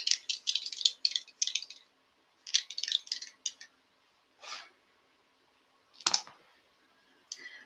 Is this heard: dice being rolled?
yes